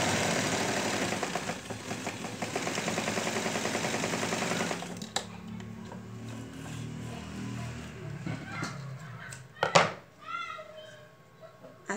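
Sewing machine stitching a padded bow for a fabric headband, a steady rapid mechanical whir for about five seconds before it stops, then quieter handling noises and brief speech.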